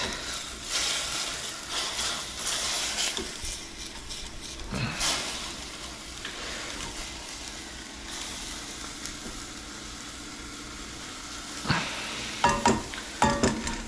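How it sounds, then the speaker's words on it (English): A pan being deglazed while cooking tomato soup, with a continuous sizzling hiss and scraping, stirring strokes of a utensil against the pan, close up, growing into sharper bursts of scraping near the end. "Let's deglaze some of the sides"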